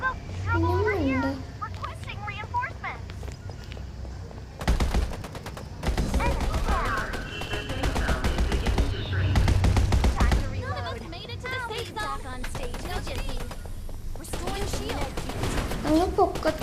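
Gunfire in the battle game Farlight 84 comes in rapid, loud bursts and longer volleys over a continuous game soundtrack, while players talk excitedly over the shooting.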